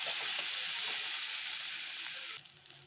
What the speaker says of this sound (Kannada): ಹಸಿಮೆಣಸಿನಕಾಯಿ ಸ್ವಲ್ಪ ಫ್ರೈ ಮಾಡ್ಕೊಳ್ಳೋಣ.